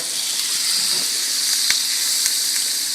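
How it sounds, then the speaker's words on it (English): Onions and mushrooms fry in a hot pan of butter and olive oil, giving a steady, loud, even sizzle and hiss throughout, with a couple of faint clicks and no one talking. "So we're going to go in our onions and mushrooms in that pan there."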